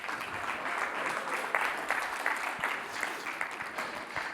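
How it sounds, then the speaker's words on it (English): Sustained applause from a room of Rotary club attendees at an Interact club showcase honouring a group of girls, steady and moderately loud with scattered individual claps standing out. "Give these girls another round of applause and go girls!"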